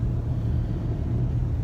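A car driving along a scenic rural road past coffee trees, heard as a steady low engine and road rumble from inside the vehicle, with no talking.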